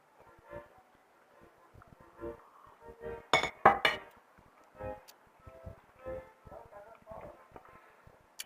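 Dishes clink in a kitchen during coffee making with a kettle, in scattered soft taps and one louder burst of clatter in the middle.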